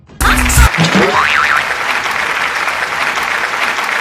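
A crowd at a stage event bursts into applause right at the start, then keeps clapping steadily at a loud level for several seconds.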